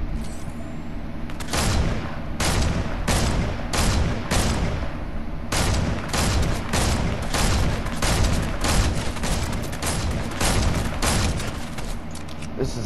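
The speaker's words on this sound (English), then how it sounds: "This is a weird gun." A weapon in Fortnite fires in rapid, evenly spaced loud shots that form a sustained volley, close and dominant over a dense background.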